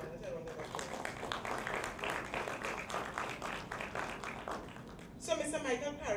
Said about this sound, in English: Let's give Mr. Ramnath a round of applause.